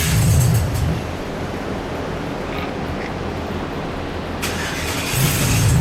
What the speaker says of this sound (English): VATS, the vehicle anti-theft system, is programmed into these trucks or these computers. It sounds a little bit like this.